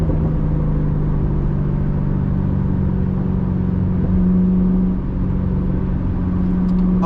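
A manual car engine giving a steady low rumble and whir that rises as it accelerates, with a brief dip around a gear shift before the drone resumes, close and continuous with no talk.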